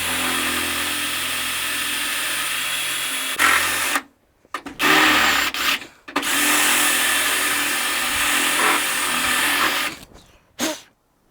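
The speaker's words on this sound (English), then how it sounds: "So I'm going to try and drill through just the top two skins now" A power drill whirs loudly through the layered body metal of a classic Mini's rear valence in long bursts, stopping abruptly several times with brief silences between, close and harsh with a grinding metallic edge.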